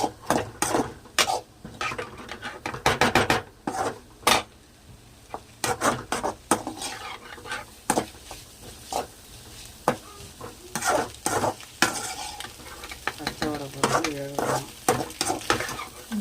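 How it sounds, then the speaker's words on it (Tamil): Chicken noodles being stirred in a pan, a busy run of scraping, rubbing utensil strokes against the metal over a low sizzle, with frequent uneven clatters and no talk. "அது கிளறிக்கலாம் ஒரு 5 மினிட்ஸ்"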